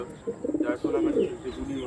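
Andhra Kalshira pigeon cooing close by in a series of soft, rolling, throaty coos that run almost continuously through the short stretch.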